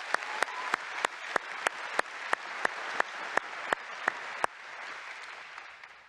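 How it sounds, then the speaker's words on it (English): A conference keynote audience gives a round of applause, a steady, even wash of many hands clapping that carries on and then fades, with a regular sharp click repeating through the first part. "Let's give all of them a round of applause."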